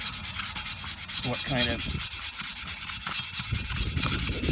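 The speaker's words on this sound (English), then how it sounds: "I will just start sanding that fresh" Squadron fast dry putty, freshly applied and hardened, is sanded by hand in steady rasping back-and-forth strokes. The sound is close and continuous, and a voice briefly speaks over it.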